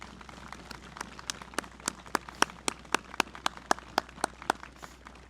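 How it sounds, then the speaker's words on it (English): Sparse, slow hand clapping from a small group at an outdoor remembrance ceremony, distinct individual claps in an uneven rhythm, fairly distant and moderately loud. "Let's give them all a round of applause"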